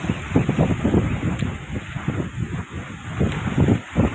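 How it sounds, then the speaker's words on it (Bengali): Strong wind gusting through a village, a steady roar that swells and dips with buffeting rumbles on the microphone, with no voices. "কি বাতাস"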